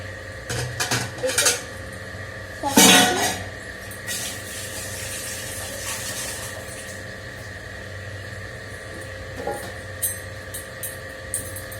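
Dishes, pots and pans being washed by hand, with clattering cutlery and scrubbing in bursts near the start and a loud clank around three seconds, then quieter rinsing and occasional light clinks.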